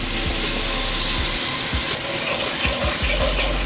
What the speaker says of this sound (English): we're gonna deglaze the pan with about a cup of red wine